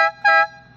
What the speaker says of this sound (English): At the front, Bo's got twin air horns installed.